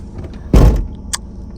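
Electric rear sunshades in a Mercedes-Benz rise at the press of a button, giving a short motor whir and a soft thunk, followed by a faint click, all close and quiet in a still cabin.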